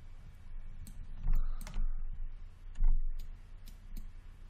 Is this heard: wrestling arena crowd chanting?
no